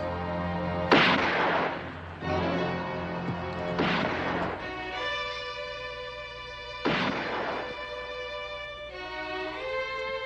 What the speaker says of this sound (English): The 3 shots were intended as a warning